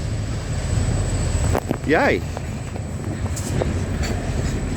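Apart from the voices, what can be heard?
Australian steel train with three-locomotive lash-up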